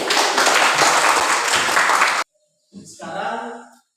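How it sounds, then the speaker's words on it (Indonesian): Applause from a classroom of students, dense steady clapping for just over two seconds that cuts off abruptly, followed by a short burst of speech. "Kasih aplaus untuk kita semua."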